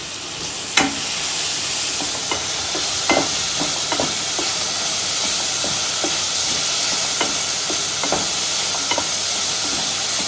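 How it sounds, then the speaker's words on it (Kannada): Food frying in a pan for Andhra chilli chicken, a loud continuous sizzle and hiss with regular scraping clicks from a spatula stirring the pan. "ಇತ್ತೆ ಒಂದಿನ ಗಡ್ಡೆನ ಫ್ರೈ ಮನ್ಪೋಡು"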